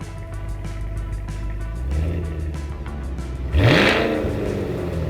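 The hand-built engine of a 2023 Cadillac Escalade-V, made in Bowling Green and paired with a 10-speed automatic, hums steadily and then revs sharply about halfway through, rising in pitch before easing back to a strong drone.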